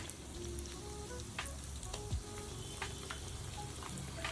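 Appalam bajji sizzle and bubble in hot oil, a steady dense crackle with scattered sharp pops and a brief clink of a utensil, close and alone without any voices.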